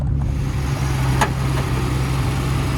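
A 1972 Triumph TR6 with a 2.5-litre straight-six engine idles steadily and smoothly while still warming up, giving a close, continuous low rumble. One brief brighter blip cuts through partway, and nobody talks.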